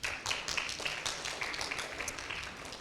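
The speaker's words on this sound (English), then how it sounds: "let's give a round of applause for Wojtek" Dense applause from a meetup audience at the Rotunda PKO BP in Warsaw, steady, close and crowded clapping that fills the whole stretch without a break.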